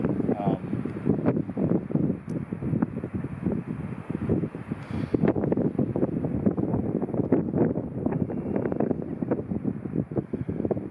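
Gusty wind buffets the microphone in low rumbling bursts, loud and close, with a person talking underneath while fishing at Deerhead Lake in Montana's East Pioneer Mountains.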